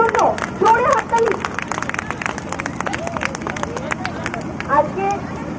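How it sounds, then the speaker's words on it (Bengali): An audience claps for young performers at a children's event, a scattered patter of applause mixed with crowd chatter and a presenter's voice talking over it. "জোরে হাততালি আমাদের লিটল চ্যাম্পসের জন্য"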